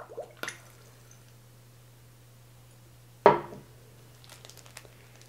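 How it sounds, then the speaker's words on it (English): A squirt bottle drawing up water, heard as a brief plastic crinkle and then a short wet squishing suck, close and quiet against a low steady hum with no talk. "I'm gonna suck up some water."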